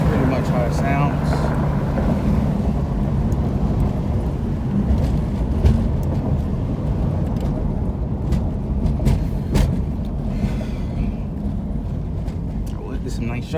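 A 1999-2004 Ford Mustang engine runs at a steady idle, a loud close rumble with the car not moving forward, its heater fan on, with speech over the top.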